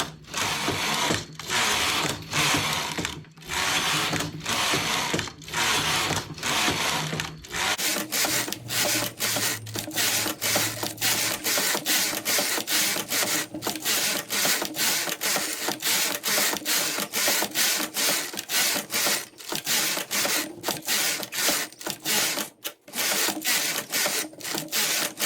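A knitting machine works thick wool yarn, its carriage sliding back and forth in a steady, repetitive mechanical clatter and rattle, loud and close, continuing without pause and with no voices.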